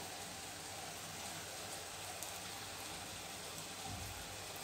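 Honey mittai sweets made with sago fry in oil over a medium flame, a soft, steady sizzle and hiss with faint crackles running throughout, with no talking.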